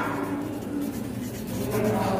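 A word is written by hand on a board during a children's geometry lesson. Soft, continuous marker or chalk strokes scrape close by at a low, even level.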